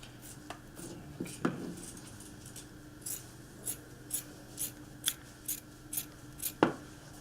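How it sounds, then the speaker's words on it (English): Scissors snip through a t-shirt in a steady run of about ten crisp cuts, close and fairly quiet, with a few slower snips and some rustling of fabric before the run. "once I finish tying this side off, I'm gonna start cutting this section"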